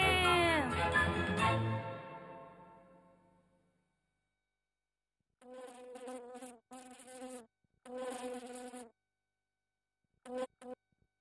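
Houseflies buzzing loudly up close in an advertisement for a fly repellent, a dense continuous drone that fades out within a few seconds, followed by separate bursts of voiced sound.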